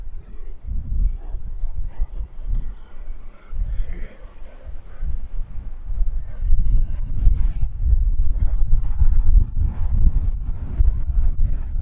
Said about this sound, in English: Today it's very, very cloudy and windy